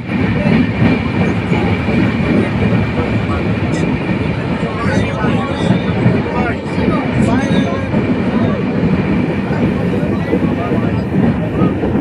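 Madhumati Express passenger train rolling into platform 4 at Ishwardi railway junction, a continuous loud rumble with wheel clatter and occasional squeals throughout, with voices talking over it.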